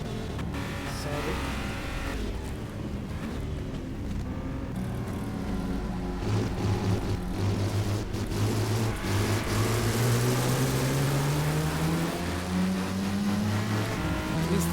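Race car engine in the GT Legends racing video game, loud and close, revving and climbing steadily in pitch as it accelerates through the gears for about fifteen seconds, no talking.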